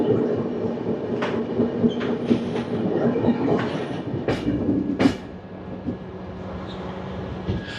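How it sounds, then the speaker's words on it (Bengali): A passenger train pulls into Puri station after a long overnight run, with a loud rolling rumble, clanking wagons, and several sharp wheel squeals and brake hisses close by. "আমাদের ট্রেন 497 কিলোমিটার পথ পাড়ি দিয়ে পুরী স্টেশনে এসে পৌঁছালো"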